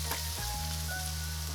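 Red and yellow onions sautéing in a pot: a faint, steady sizzle beneath a low electrical hum, with no talking.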